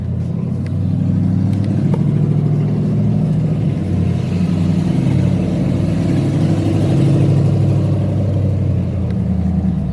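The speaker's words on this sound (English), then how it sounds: "that Yukon is so freaking loud you can't hear anything over it" A Chevrolet Yukon engine runs loud and close for the whole stretch, a dense steady low rumble with slight revving swells and no voices.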